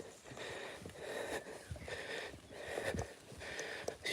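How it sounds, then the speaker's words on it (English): A dog named Azra sniffing on a foggy morning walk, with repeated short nasal sniffs and snuffles coming in bursts close to the microphone. "She's sniffing so much, I think she's forgotten she probably wants to go to the loo at some stage."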